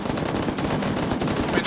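Arma 3 combat gunfire, a rapid rattling burst of automatic weapon shots fired in quick succession, loud and close with a dense battlefield backdrop.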